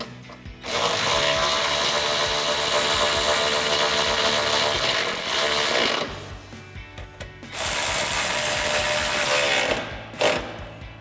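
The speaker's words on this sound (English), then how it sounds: "And tighten it down with our 10 millimeter socket." Ratchet with a 10 mm socket tightening a headlight bolt on a 2007-2013 Chevrolet Silverado, heard as two long, loud, rapid clicking runs separated by a quieter gap, then a short final burst.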